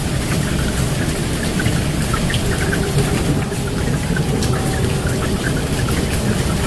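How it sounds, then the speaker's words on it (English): Thunderstorm rain pouring over the holy city of Makkah, a loud, dense, continuous hiss of heavy rainfall with scattered drop impacts and no voices. "As thunderstorms hit the holy city of Makkah on Friday"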